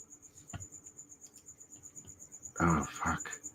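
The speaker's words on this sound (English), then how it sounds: "Man, that cricket's loud." A loud cricket chirps steadily close by, a thin high trill that runs through the whole stretch, with a burst of indoor voices and handling noise rising near the end.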